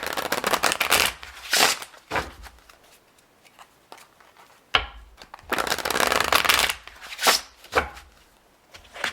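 A slightly slippery tarot deck is shuffled by hand in repeated riffling bursts, close and crisp, with short quiet gaps between the passes.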